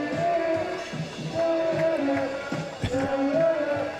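Crowd at a Vitality Blast T20 cricket match between Leicestershire Foxes and Worcestershire Rapids chanting in the stadium, a rhythmic sing-song swell repeating through the clip over a broad, distant roar of voices.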